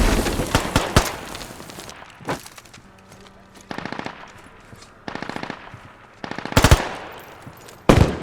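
Rifle and machine-gun fire in the military shooter game Squad comes in repeated bursts of rapid shots, some near and loud, others farther off, with a few heavy single blasts between.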